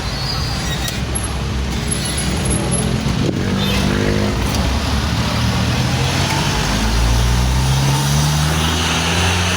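Busy road traffic on a Manila street near the SM Manila mall, with car and truck engines idling and creeping forward, a steady loud roadway rumble throughout and low engine drones rising toward the end.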